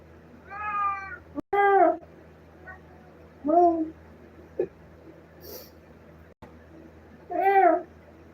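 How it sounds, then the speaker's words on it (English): A pet cat meows several times, separate drawn-out meows spaced a second or two apart, close and clear in a quiet room, with a couple of brief knocks between them. "the oldest cat that I've ever had in my entire life"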